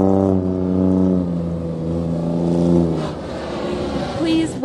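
The Ford Bronco R race prototype's engine drones loud and close with a steady tone, then its pitch falls away and settles.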